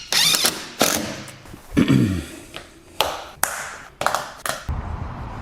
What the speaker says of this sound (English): So I'm going to take the screws out of the stop on the other side of the slider